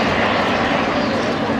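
A military transport plane with Europrop International TP400 turboprop engines flying past at an air show, a loud steady engine roar filling the air while a commentator talks over it.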